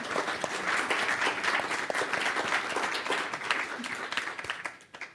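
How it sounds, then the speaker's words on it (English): An audience applauds a disabled dancer's performance at an accessibility-in-the-arts event. The applause is sustained and evenly dense, then thins out and fades near the end. "so I'd like to give her a round of applause"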